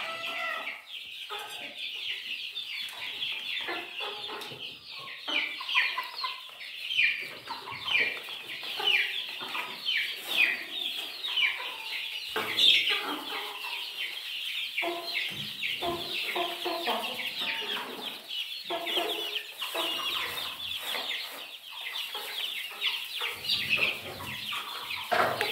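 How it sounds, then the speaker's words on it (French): A Brahma rooster and a hen cluck steadily at close range through a long farmyard stretch, with dense overlapping calls and scattered bursts of louder squawking. "Le coq il va monter sur la poule. Et la poule elle refuse."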